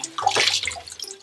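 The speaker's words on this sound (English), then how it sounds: "Get them rinsed all nice and clean in cool water." Cool tap water runs and splashes over fresh produce being rinsed, a brief close rush of water.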